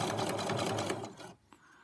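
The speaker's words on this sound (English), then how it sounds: "Needle down, turn that pin so it doesn't get in the way. Sew some more." A sewing machine whirs continuously while stitching butterfly charm quilt blocks, then stops abruptly and leaves a quiet room.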